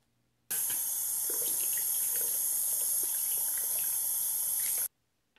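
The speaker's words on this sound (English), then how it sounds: "it's a good idea to just wash your brush, clean it good before you use it for the first time." Running tap water pours steadily over a shaving brush, a continuous close splashing hiss lasting about four seconds and then stopping abruptly, with no talking.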